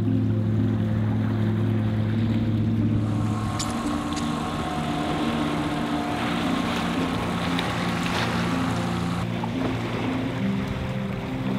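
Boat engine droning steadily off the coast of Maine on a seaweed harvest trip, a loud low hum with tonal whine, water wash and wind around it and a shift in engine pitch early on, with no talk.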